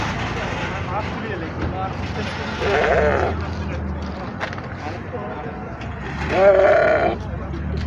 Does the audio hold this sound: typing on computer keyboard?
no